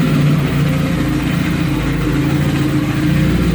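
An Opel GT with a 2.4 L Motronic fuel-injected engine idles while still warming up, with a suspected loose alternator noise up front: a loud, steady, close engine drone with a faint rattle, no voices.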